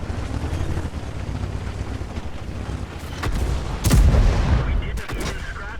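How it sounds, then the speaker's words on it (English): A tank cannon firing a high-explosive shell in the World of Tanks game sounds as a heavy booming blast over a constant engine and wind rumble, followed shortly by another sharp burst. "he is going to peek around the corner with his next shot and sadly finish me off with high explosive"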